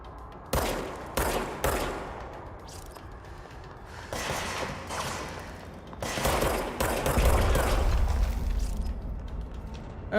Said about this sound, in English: Don't shoot at me. I shoot at you.